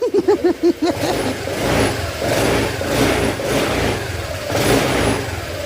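A Honda motorcycle engine, suspected of a crankshaft fault, revs hard in a few sharp bursts, then holds a loud, steady, rough drone up close.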